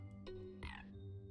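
A pair of frogs croak in Storyteller, two or three low, resonant croaks over a sustained musical hum, close and fairly loud.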